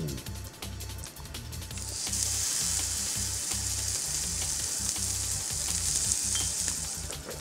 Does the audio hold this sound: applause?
no